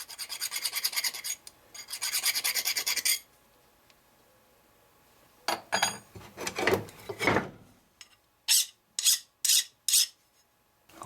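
Hand deburring inside a steel bar clamp where it was ground on a grinder: rasping, scraping strokes, first two long sustained passes, then a pause, then a flurry of shorter rubs and several quick sharp strokes, close and moderately loud, with no talk.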